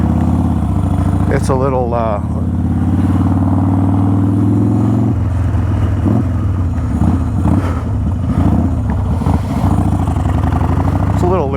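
A motorcycle with a loose throttle idles steadily and loudly after starting, a constant low rumble with a brief rev partway through, while someone talks over it.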